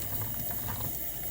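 Freshly boiled water is poured from a kettle over coffee grounds in a paper towel filter, a steady close trickling and splashing with no voices.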